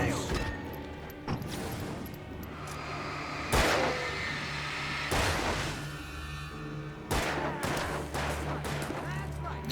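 Gunfire from an allied character in the video game Alan Wake: several sharp, loud bursts of shots spaced a few seconds apart, cutting through a dense, steady bed of game ambience and music.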